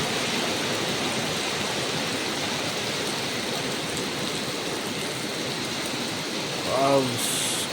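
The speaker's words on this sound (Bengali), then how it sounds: "দেখো দেখো কিভাবে বৃষ্টি পড়ছে দেখো" Heavy winter rain pours steadily in a broad, even roar, with a voice speaking briefly near the end.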